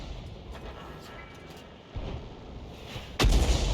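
An SU-8 self-propelled artillery gun fires high-explosive rounds in a tank video game: a low rumbling battle bed breaks into a dull thump, then a loud, booming blast near the end.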